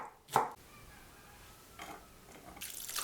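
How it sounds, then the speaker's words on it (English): A knife chops bamboo shoots into small cubes on a board: one sharp, loud cut early on, then a few softer cuts and scraping sounds. "Cut 100 grams of bamboo shoots into small cubes."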